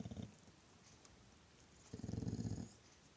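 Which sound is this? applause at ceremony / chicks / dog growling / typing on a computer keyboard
dog growling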